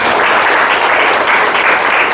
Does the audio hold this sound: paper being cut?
no